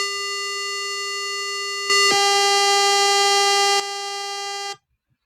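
A synthesizer square wave drones as a continuous hollow, buzzy tone, shifting in pitch and loudness midway before cutting off abruptly.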